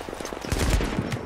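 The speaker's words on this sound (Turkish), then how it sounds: "O taret de bana sıkıyor." An automated turret in The Division fires a rapid burst of gunshots, dense and close, with sharp repeated cracks across the whole moment.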